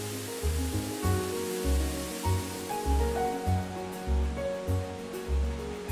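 Rushing water of Looking Glass Falls in Pisgah National Forest, North Carolina, roars steadily, with a low rhythmic pulsing churn underneath the constant broadband wash of the waterfall.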